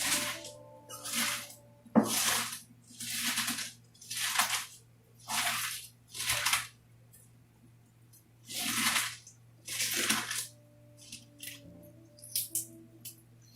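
Cabbage being broken up and squeezed by hand for sauerkraut, a series of separate crunchy, wet squishing bursts about a second long, spaced by short pauses, close and fairly quiet.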